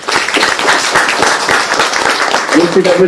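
An audience breaks into applause, giving a dense, steady run of close hand claps that lasts throughout, with a voice briefly heard near the end.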